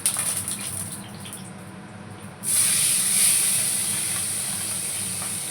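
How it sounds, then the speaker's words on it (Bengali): Fried fish hits hot mustard oil in a wok: a low background hiss jumps suddenly into a loud, bright sizzle that holds steady and slowly fades a little. "এখানে কড়াই সর্ষের তেল বসিয়েছি, আমি এখানে মাছ ভাজাগুলো দিয়ে দিচ্ছি"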